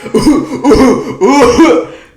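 Three bursts of voiced, throaty coughing, sounding like a person imitating coughs, loud and close with short pauses between them.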